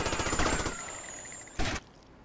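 A rapid burst of automatic gunfire from GTA Vice City gameplay, loud, close and quickly repeating, then tapering off before a short sharp burst near the end.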